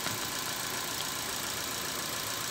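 A Ford EcoSport engine idles while warming up before a spark plug change, giving a steady, even hum that runs unbroken throughout with no talk.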